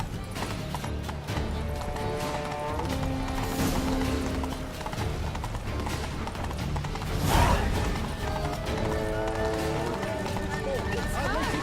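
A horse gallops with a steady rhythmic clip-clop in The Witcher 3, loud and continuous under spoken dialogue and game music, with a brief whinny partway through.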